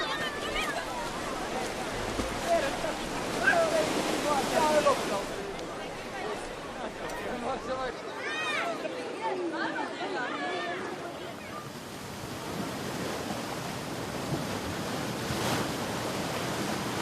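Sea waves wash over the rocks at a natural seawater pool in Tenerife, a steady broadband surf hiss beneath a voice speaking throughout, with louder swells rising and fading.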